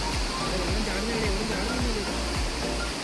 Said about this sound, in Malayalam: അരുവി